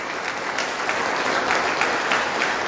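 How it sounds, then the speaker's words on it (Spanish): A church congregation claps together at the start of an evening service, a steady, full round of applause with a few louder accented claps, no voices standing out. "Vamos a empezar dándole un fuerte aplauso a Jesucristo"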